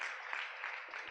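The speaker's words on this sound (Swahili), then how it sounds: "Munipigie tena makofi" Steady applause from a talk show audience at a youth etiquette event, a dense, even patter of clapping sustained briefly without a break.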